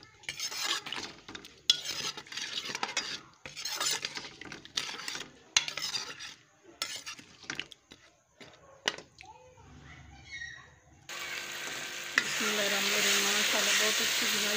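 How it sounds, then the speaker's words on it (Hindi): Half a kilogram of potatoes stirred and fried in a pan, with a spoon scraping and clattering in an irregular rhythm; talk comes and goes over it, then a steady, loud sizzle takes over near the end. "इनकी अच्छी तरह बुनाई करूँगी।"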